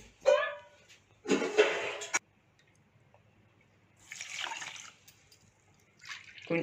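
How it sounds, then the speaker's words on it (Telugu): Water splashes in short bursts into a cooking pot while sugar syrup for a sweet made with maida flour is being prepared, with quiet gaps between the pours. "వాటర్ 1 కప్ వాటర్ అండి"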